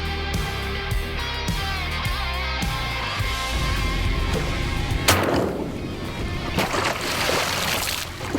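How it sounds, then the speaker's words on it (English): Shotgun blasts ring out during a sea duck hunt for eiders off Massachusetts from an amphibious boat, sharp reports over steady engine and water noise, with splashing and sloshing around the hull. "Bang, bang, reload, and bang, bang again."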